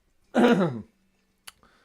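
A single throat-clearing cough bursts out close to the mic, followed by quiet and a couple of faint small clicks.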